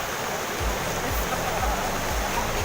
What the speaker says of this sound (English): The waterfall is now behind us.